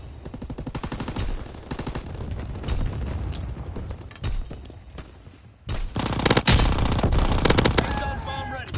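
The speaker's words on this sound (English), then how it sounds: "Anti-aircraft burst has commenced." Anti-aircraft gunfire in a video game, dense rapid bursts of automatic fire with booming impacts layered over a busy battle din, loud and continuous with a brief lull before a heavier burst.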